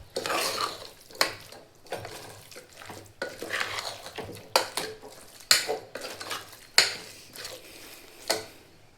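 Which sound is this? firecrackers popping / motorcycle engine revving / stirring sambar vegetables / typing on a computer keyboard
stirring sambar vegetables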